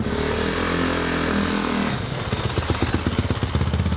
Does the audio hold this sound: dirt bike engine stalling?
yes